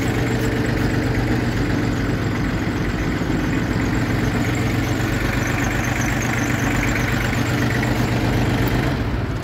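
A Yanmar F18 mini tractor's diesel engine idles steadily and loudly just after starting, a close, even chugging rumble with no voices.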